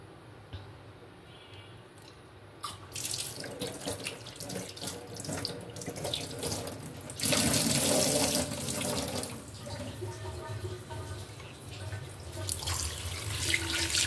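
Koi fish are rinsed with lemon and salt under a running kitchen tap, starting as a soft trickle and then turning to a louder, steady gush of water splashing into the sink.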